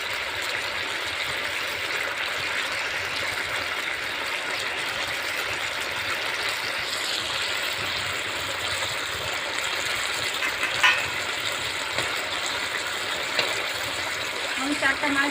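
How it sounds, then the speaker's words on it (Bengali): Fish curry gravy with raw potato bubbling steadily in a pan, a continuous watery simmering hiss with small pops, heard close and fairly loud throughout. "এবারে গ্রেভির ঝোলটা খুব ভালো করে ফুটছে,"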